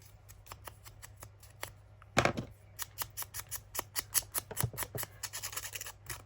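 Scissors cut through a paper label in a junk-journal craft, giving a quiet snip near the start, a louder crunch, then a quick run of rhythmic close snips and rustles, with no speech.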